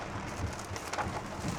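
Rain drums on the metal roof of a box truck, heard from inside as a dense, steady patter with scattered louder drops, close and enveloping, with no talking.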